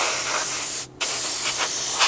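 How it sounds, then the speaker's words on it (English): Primer sprayed onto parts of a Tamiya 1/32 Mitsubishi A6M2b Zero fighter model: a close, steady hiss in one long burst, a short pause, then a second burst, with no talking. "nice and ready for the spraying that we're going to be doing to this."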